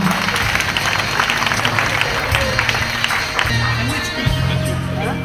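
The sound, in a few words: applause at a graduation ceremony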